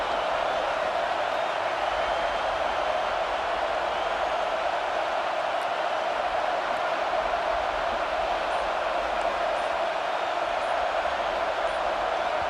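Stadium crowd in the college football video game CFB 26, a dense, continuous roar of many voices at steady loudness, with no clear speech over it.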